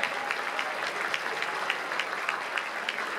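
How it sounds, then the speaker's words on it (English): An audience at the 2015 Americana Awards claps steadily for the band in an even patter of many hands, moderately loud and continuous, with no voices over it. "Clap for the band."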